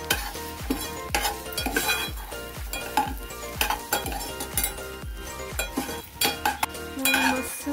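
Spoon stirring chili powder and garam masala through eggplant and coriander chutney in a pan, giving steady rhythmic scrapes and clinks over a soft sizzle, close and fairly loud with no talk.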